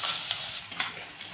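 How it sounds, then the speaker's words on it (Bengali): Chopped ginger sizzles and fries in a hot pan, a steady bright crackling hiss with faint stirring scrapes, close and moderately quiet with no talk. "আদা কুচিটাও দিয়ে দিলাম। এটাকে একটু হালকা ভাজা ভাজা করে নিতে হবে"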